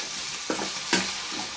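Guar beans being stirred and sautéed in a pan for a spiced curry, a soft steady sizzle broken by two brief scraping stir strokes, close and fairly quiet, with no talking.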